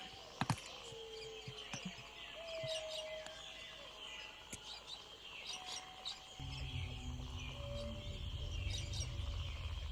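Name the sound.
bird noises ambience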